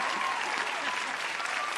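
A comedy show audience claps, a brief, dense burst of applause from many people at even strength throughout.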